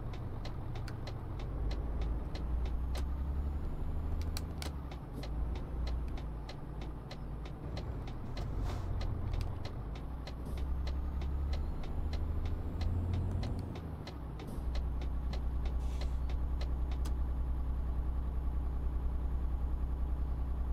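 A truck towing a small trailer in Euro Truck Simulator 2 gives a steady, low engine drone that shifts slightly in pitch, with a faint, regular ticking running over it and no talk.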